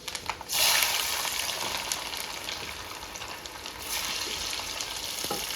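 Fenugreek seeds and garlic frying in hot oil for Punjabi kadhi, a steady close sizzle with a louder hiss near the start and another swell later, no talking.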